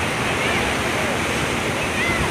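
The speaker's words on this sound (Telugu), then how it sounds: "అలల శబ్దం ఏంటంటే ఎంత హాయిగా ఉందండి" Ocean waves at Suryalanka beach, a steady loud roar of surf mixed with wind buffeting the microphone, continuous and close.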